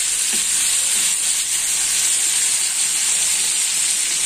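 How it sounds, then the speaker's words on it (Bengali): Snakehead fish frying in hot oil in a home kitchen, with a loud, steady sizzle and hiss that fills the whole stretch without pause and with no talking. "মাছটা এখানে ভাজা হোক,"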